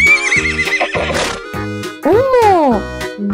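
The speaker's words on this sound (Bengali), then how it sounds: "ঘতে ঘোড়া।" A horse neighs in a loud, close whinny that rises and falls near the middle of the clip. A steady, musical children's backing plays under it.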